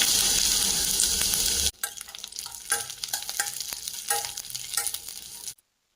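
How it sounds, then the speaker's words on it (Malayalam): Coconut pieces frying in hot oil in a pan: a loud, dense sizzle for the first second and a half, then a quieter crackle with scattered stirring clicks until it cuts out near the end. "ഇത് ചൂടായി കഴിയുമ്പോൾ നമുക്ക് തേങ്ങാക്കൊത്ത് ഇട്ട് കൊടുക്കും"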